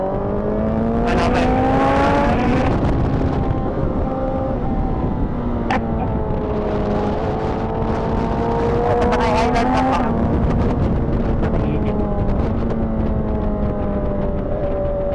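A superbike engine, such as a BMW S1000RR, Honda CBR1000RR-SP2 or Kawasaki ZX-10RR, drones and rises in pitch as it passes on a racetrack, a loud steady roar with shifting harmonic tones throughout.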